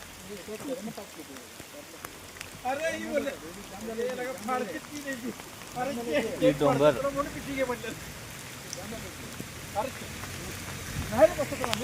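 Steady rain falls outdoors during a group road trip from Sangli to Barki, a soft broadband hiss running continuously beneath lively male conversation.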